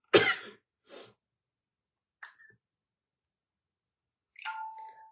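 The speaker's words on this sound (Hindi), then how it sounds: "रात में थोड़ा ठंडा हो जाता है ना तो खांसी होने लगती है." A woman gives two quick coughs close up, followed by quiet and a couple of brief, faint tonal blips.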